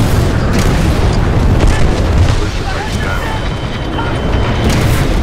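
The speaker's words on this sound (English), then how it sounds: "Fire. Quad rocket." Quad rocket fire and explosions in the shooter game Titanfall 2, a dense, loud, continuous roar of booming blasts and rumble filling the whole stretch, with battle noise layered throughout.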